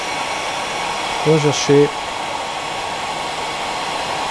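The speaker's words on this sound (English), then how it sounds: "blow the hairdryer through it just to show you again what it looks like" A hair dryer blows steadily through a Tummel Monkey salmon fly at the tying bench, a constant broadband whoosh running throughout, while someone speaks briefly over it.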